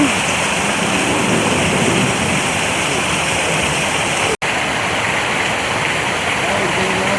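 Running water at an animal exhibit in Palm Beach Zoo, Florida, makes a loud, continuous, even rush close by, steady from start to finish with no break.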